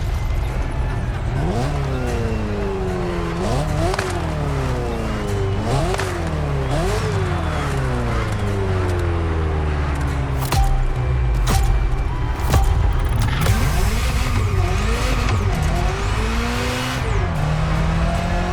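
Ferrari F40 supercar engine in The Crew Motorfest, revving hard through repeated upshifts and downshifts with rising and falling pitch sweeps, loud and close, with tire squeal and a surge of extra intensity late on.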